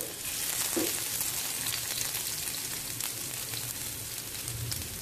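Cumin seeds and chopped garlic frying in hot oil, a steady close sizzle with fine crackling that runs evenly throughout, no voices.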